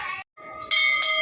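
Temple bells at Gorakhnath temple in Gorakhpur ring out, bright metallic tones with a brief gap, then a louder fresh strike that hangs and shimmers close by.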